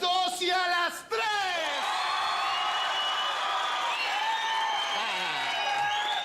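A Colombian comedy variety show studio audience cheers and whoops loudly, the crowd noise continuous and full, with yells and a shouting voice riding over the applause throughout.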